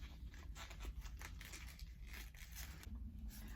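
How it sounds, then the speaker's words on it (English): Stems of an elephant ear plant being cut with a few quiet snips and tearing crackles, faint and close, over a low background hum. "I'm going to go there and I'm going to just cut it"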